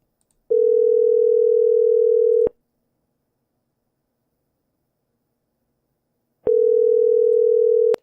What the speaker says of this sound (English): At the tone, please record your message.